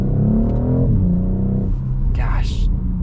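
A 2026 BMW X3 M50 SUV with a B58 engine accelerating hard, its deep engine drone rising in pitch steadily and close up, then dropping as it shifts, with a brief voice near the end.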